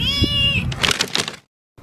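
A cat gives one loud, drawn-out meow up close, followed by a short rough second call, then quiet, at a rock-cut cave temple near a lake.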